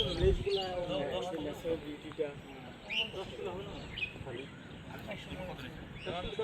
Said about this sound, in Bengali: এই শালিক পাখিগুলো কথা বলতে পারে